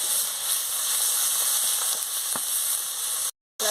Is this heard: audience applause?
no